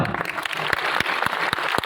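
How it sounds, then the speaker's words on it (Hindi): A crowd claps in response at a motivational talk in Dungarpur, Rajasthan, a fairly loud patter with a few sharp, distinct claps standing out. "ताली बजाओ।"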